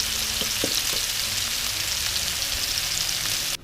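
Keto meatballs frying in a pan: a steady, loud, dense sizzle of hot oil with a few soft clicks, running alone without speech.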